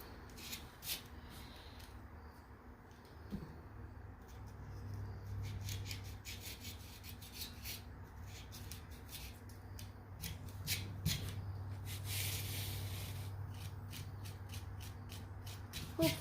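Razor blade gently scraping material off a homemade Halloween cemetery column, a quiet, steady rasping that comes and goes in short bursts over a low background hum.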